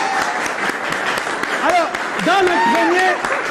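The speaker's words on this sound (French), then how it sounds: "On applaudit pour Loco, s'il vous plaît." Audience applause at a French live show, a steady wash of clapping across the whole moment with cheers and voices rising over it.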